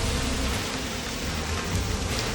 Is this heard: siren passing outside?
no